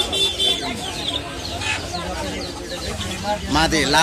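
Pigeons coo and flutter close by amid a busy crowd at Ati Bazar pigeon market in Bangladesh, with someone talking steadily over the birds throughout.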